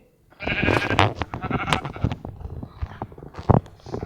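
Minecraft sheep bleat several times in quick succession, wavering and nasal, clear over quiet game ambience.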